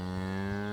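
A cow moos across the fields of rural Irish countryside near a cottage: one sustained, low, droning call, moderately loud and alone.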